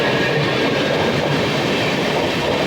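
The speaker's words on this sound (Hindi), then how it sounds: "फिलहाल Prayagraj Lalgarh superfast express overtake कर रही है।" A Prayagraj–Lalgarh Superfast Express passing on the adjacent track, heard from inside a moving train as a loud, continuous rumbling roar with wheel clatter filling the whole stretch.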